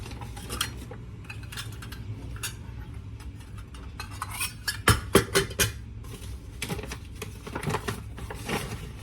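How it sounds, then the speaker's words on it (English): Flour is whisked in a bowl, a quick rattling clatter of wire against the bowl close up with bursts of rapid ticking strokes and no talk. "we're going to whisk together some flour"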